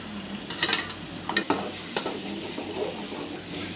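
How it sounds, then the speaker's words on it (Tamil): Beaten egg stirred and fried in a pan for chicken rice, with repeated quick scraping strokes of a spatula over a soft, close sizzle. "இது வந்து நம்ம முட்டையை வந்து உடச்சி ஊற்றியாச்சு இது நல்லா போய் கிண்டிக்கலாம்"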